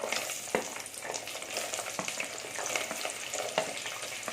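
Two hundred grams of small onions and fenugreek fry in hot oil for a tamarind fish curry, giving a dense, even sizzle with occasional sharp taps and scrapes of a spoon in the pan.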